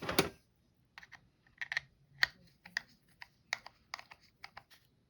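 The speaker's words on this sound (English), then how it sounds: "With that done, we're going to tighten down the nut." Tightening the nut on the axle shaft of a Johnson Graphite Tangle Free 10 fishing reel, giving a sharp initial clatter followed by a string of small, quiet metallic clicks and ticks spaced irregularly over several seconds.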